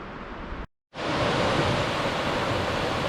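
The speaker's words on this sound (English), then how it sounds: "Here's that waterfall." Ravens Cliff Falls waterfall roars as a dense, steady rush of water heard up close, broken by one brief dropout near the start.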